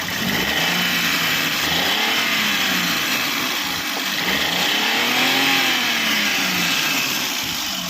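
A 2016 Maruti Alto LXi car engine runs steadily at idle, a continuous close mechanical hum with slight rises in pitch and no voices over it.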